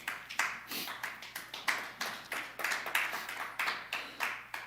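A church congregation claps steadily in rhythmic unison to acclaim God, a brisk, even beat of many hands sounding moderately close with no singing over it.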